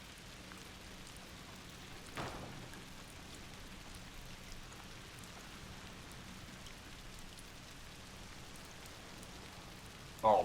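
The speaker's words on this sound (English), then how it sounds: "I could feel each of those individual raindrops" Rain falls in the video game A Plague Tale: Requiem, a soft continuous hiss of raindrops with a faint distant thunder-like rumble and a brief louder burst near the end.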